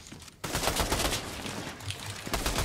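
Gunfire during a ranked Fortnite match, including sniper fire: after a brief lull, loud, dense volleys of shots crackle almost continuously, close and harsh, with no talking.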